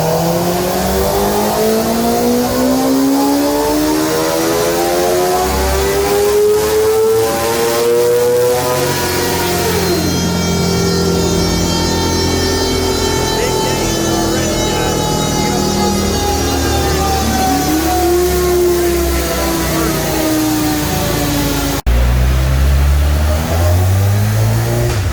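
A stock Suzuki GSX-R 600 sport bike engine screams on a dyno after an ECU flash, revving hard and rising in pitch through sustained high-rpm pulls, loud and close with no talking.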